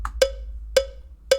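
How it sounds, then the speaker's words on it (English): A bright cowbell sample from a pop drum pattern in FL Studio rings out in three evenly spaced hits, each a sharp metallic clank with a short ring, loud and alone. "I put this cowbell in as well"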